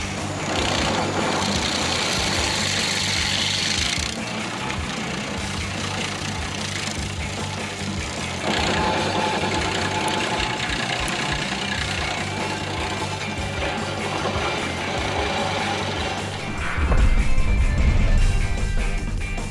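A Bobcat E50 mini excavator works on tree stumps, its diesel engine chugging steadily with a knocking, rattling rhythm. The load shifts in several stretches, and a heavier, louder burst comes near the end.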